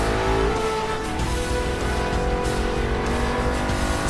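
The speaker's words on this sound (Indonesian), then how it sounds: "terdengar suara motor dengan kecepatan penuh mendekatinya" A motor vehicle roars at full speed on a street, its engine droning loud and steady with a rising whine and some tire noise, close and continuous without any speech.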